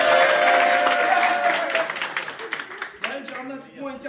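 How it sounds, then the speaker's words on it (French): An audience applauds at a magic show, a broad wash of clapping that fades over a few seconds while voices talk over the tail end. "On peut applaudir Maël."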